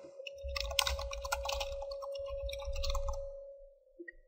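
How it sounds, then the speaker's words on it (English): Keys clatter on a computer keyboard in two quick bursts of close, rapid typing over a steady electronic tone, followed by a couple of soft clicks. "You can start typing your notes."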